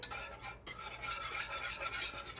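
A whisk scrapes steadily through milk being worked into a mac and cheese sauce in a pan, a close, rhythmic rasping swish with no talking.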